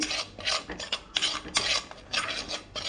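Regular chili powder dry roasting in a pan over a medium flame, a utensil scraping and stirring in repeated rasping strokes, close and fairly loud with no talk.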